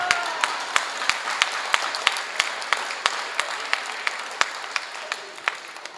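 A small audience at a live Hindi comedy talk claps in sparse, sharp, evenly spaced claps over about six seconds against a faint room hiss.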